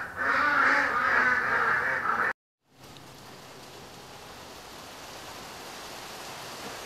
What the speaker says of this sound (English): Ducks apparently like the rain.